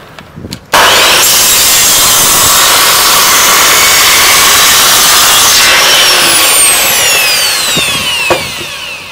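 A saw cuts steadily through wood in a masonry setting, a loud, continuous rasping close by that starts abruptly after a brief quiet moment and runs almost to the end.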